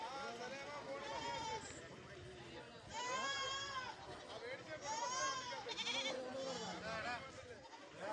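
Goats bleat repeatedly at a busy goat market in Kerala, with several loud, wavering calls rising over a steady hubbub of crowd voices and people talking nearby.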